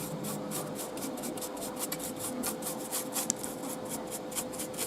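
Brush rubbing lighter gray paint onto 3D printed terrain, a continuous soft, rhythmic scrubbing and rasping, close and steady throughout with no talk.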